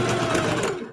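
A Singer HD sewing machine stitches a zigzag, a brief close mechanical whirr that runs about a second before cutting off.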